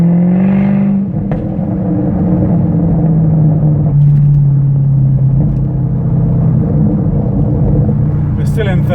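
A tuned Jaguar F-Type idles with a steady low exhaust rumble, then a rev blip near the end brings sharp crackles and burbles. Someone talks over the engine.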